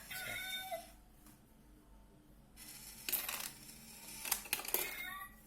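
A cat-shaped coin bank takes a coin with its mechanism, giving a whirring motorized buzz and meow-like electronic sound followed by clicking and a clinking coin drop, quiet and close with room noise in between.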